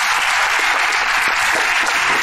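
Steady, dense crowd applause fills an indoor hall at a Lotto Superliga handball match between AZS AWFiS Gdańsk and Spójnia Warszawa, sustained and loud without breaks.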